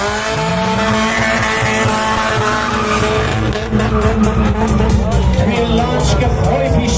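Drag race cars launching at a drag racing event in Tabriz, loud engines revving high with tire squeal and rising roars as they pull away, while an announcer and crowd chatter run underneath.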